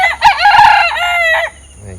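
A household rooster crows once, close and loud, a full harmonic cock-a-doodle-doo call lasting over a second before dropping away to quiet yard ambience.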